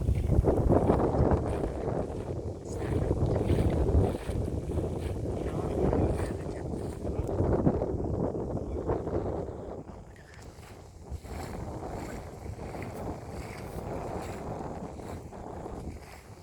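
A boat on the Songkhram River in Nakhon Phanom approaches with a steady, rumbling engine drone mixed with heavy wind buffeting on the microphone, louder at first and then easing to a lower, continuous hum.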